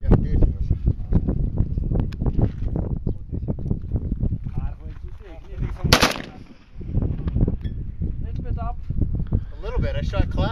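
A single sharp gunshot rings out at a shooting range in Mongolia, cracking loudly once amid ongoing conversation and nearby voices.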